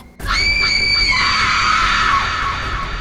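A sudden, loud, high-pitched scream erupts and holds for a few seconds, with wavering tones and a slight tapering at the end.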